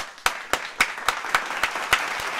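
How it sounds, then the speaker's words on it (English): About nine sharp claps land in a quick, even rhythm, loud and close, each a separate slap rather than crowd applause, with no talk over them. "Yo, give this man an applause"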